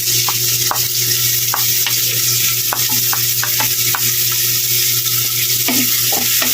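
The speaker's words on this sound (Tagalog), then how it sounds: "Tapos lalagay na natin yung ating sibuyas." Garlic and onion frying loudly in a pan for a tomato-rich sinigang, with a constant close sizzle and a quick series of sharp spatula taps and scrapes against the pan.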